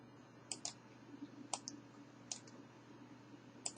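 A computer mouse clicks softly at close range in small pairs and singles, spaced about a second apart over a faint steady hum.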